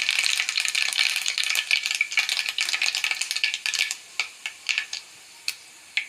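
Mustard seeds crackle and splutter in a spoonful of hot coconut oil in a pan on the stove, a dense, close sizzling patter that thins into sparse sharp pops toward the end.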